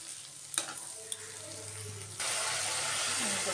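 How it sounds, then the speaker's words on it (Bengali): A spice paste of cumin, ginger and tomato sizzles and is stirred in a pan, with soft scraping early on and then a louder, steady frying hiss that fills the second half. "জিরে আদা বাটা টমেটো দিয়ে ভালো করে মশলাটাকে কষিয়ে নেবো।"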